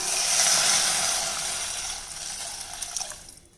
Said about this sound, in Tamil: தேவையான தண்ணி விட்டுக்கலாம்